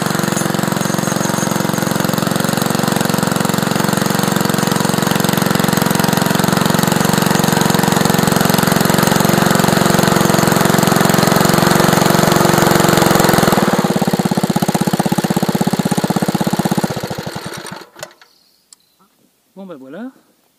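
A repaired Bernard engine runs steadily and loudly for most of the stretch, a dense mechanical drone, then cuts off near the end, leaving a few faint knocks and a brief voice.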